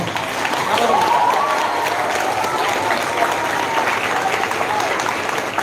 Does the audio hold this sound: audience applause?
yes